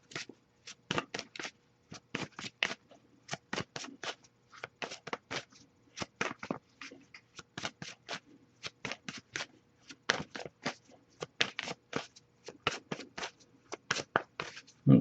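Tarot cards are shuffled by hand again and again, producing quick bursts of riffling flutter in an uneven rhythm, close and fairly quiet, with short pauses between shuffles.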